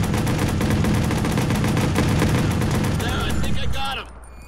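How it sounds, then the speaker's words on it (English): Gunfire from the Watch Dogs game comes as a loud, dense burst of rapid shots that runs almost without a break and then cuts off abruptly near the end, leaving quieter game ambience behind. "I shot him in the head"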